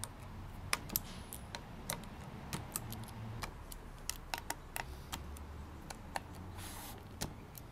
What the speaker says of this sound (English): First we'll crack all of the screws on the outside.